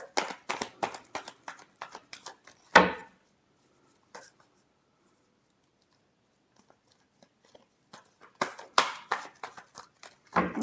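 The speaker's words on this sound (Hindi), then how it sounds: "Last shuffle." Tarot cards being shuffled by hand during a reading: close, crisp riffling and slapping bursts at the start, a quiet gap, then another flurry of shuffling near the end, with no talk.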